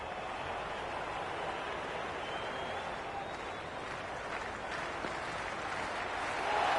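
Steady cricket video game crowd applause and murmur, a continuous wash of clapping and cheering at moderate distance, swelling slightly at the end.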